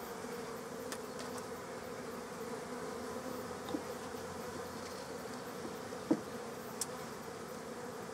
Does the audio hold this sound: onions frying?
no